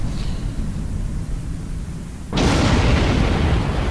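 A starship blows up in the space combat game Star Trek Online: a quiet hum breaks into a sudden loud blast that holds as a dense roaring wash for over a second.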